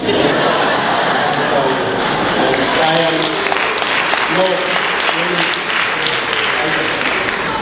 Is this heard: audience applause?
yes